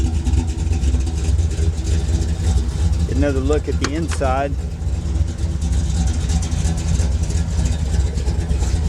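A 1962 Ford Fairlane 500 Thunderbolt tribute with a high-performance 427 V8 idles with a steady, deep, lumpy rumble up close, while someone briefly speaks over it midway.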